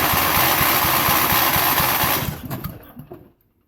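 A parts engine being cranked over on the starter, a steady rapid rhythmic churning that runs loud for a couple of seconds, then slows and dies away into silence.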